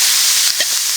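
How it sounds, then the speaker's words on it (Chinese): Loud, steady sizzle of a wok stir-fry right after flour is added, a dense hiss over about one second with a faint stirring scrape partway through. "再把粉加进去，一起炒"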